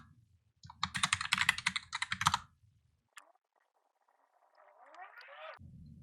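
Computer keyboard typed in a quick burst of clicking keystrokes while terminal commands are entered on Linux, followed by a pause, a single click and a faint rising electronic tone, heard close and alone.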